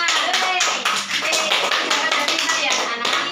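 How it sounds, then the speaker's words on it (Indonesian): A grade-four classroom claps hands together, with sharp, close, rapid rhythmic claps and no pauses over a few seconds. "Oke, tepuk tangan."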